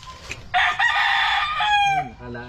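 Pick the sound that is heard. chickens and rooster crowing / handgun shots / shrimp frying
chickens and rooster crowing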